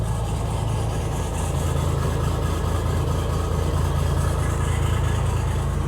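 A 2007 Sunseeker Portofino 47 sports cruiser's engines run at a steady idle, a dense low rumble with waterline exhaust burble that holds constant throughout, close and moderately loud, with no talking.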